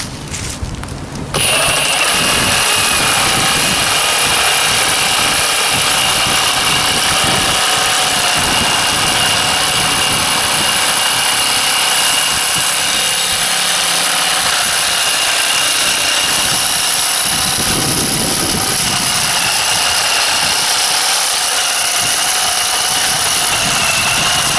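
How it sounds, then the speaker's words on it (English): Milwaukee M18 FUEL cordless Sawzall with a torch blade cutting through steel pipe, a loud continuous buzzing motor drone after a brief start, steady and close for the whole stretch. "Now I'm going to use the M18 FUEL Sawzall with the torch blade to cut"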